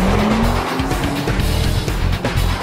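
A car is driven hard around a test track and braked hard over and over. Loud engine roar rises with tyre squeal and skidding, and a rising engine whine runs through the middle, all close and with no talking.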